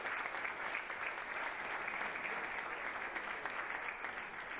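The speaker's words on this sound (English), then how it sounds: "Let's give our candidates a round of applause, please." An audience at a business panel event applauds the candidates, dense steady clapping from a sizeable crowd filling the room throughout.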